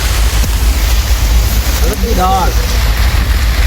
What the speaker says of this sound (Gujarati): જો ફૂલ વરસાદ આવી રહ્યો છે ફૂલ